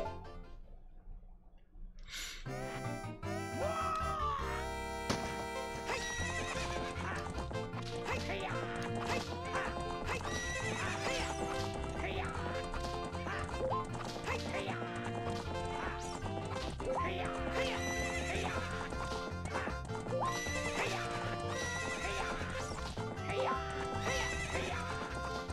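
A horse in the video game Ocarina of Time neighs and gallops with clip-clopping hooves under busy game music, the whinny standing out near the start and the hoofbeats continuing throughout.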